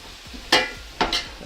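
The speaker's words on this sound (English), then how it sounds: "We're gonna mash up these potatoes." Boiled potatoes get mashed in a pot, with two close, soft squelching presses and a faint scrape between them, quiet and without talk.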